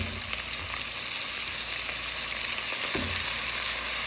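Lamb sizzles and fries steadily in homemade lamb oil with garlic, ginger and chopped onion, a close, continuous crackle with a brief stirring clatter near the end.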